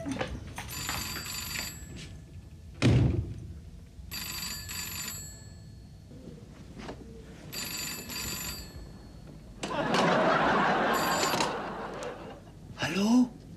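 A telephone rings in a comic Hindi sitcom home scene, several bursts of bright ringing separated by pauses, with a brief louder burst of noise and clattering between rings.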